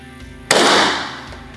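A single loud .17 caliber rifle shot fired at a groundhog during a pest hunt in western New York, a sharp crack that trails off into a short fading tail.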